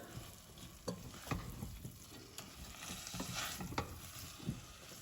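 Red wine braised lamb shanks stirred in a pot with the liquid cooked down, giving repeated scraping strokes over a soft, low sizzle, fairly quiet and without talk.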